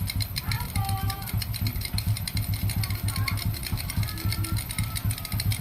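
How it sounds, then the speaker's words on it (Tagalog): A Honda RS 125 motorcycle engine idles with a fast, steady, close putter as its idle is raised. Speech is heard over it. "Grabe ang baba ng minor naman. Pangit naman pag ganyan kababa ang minor."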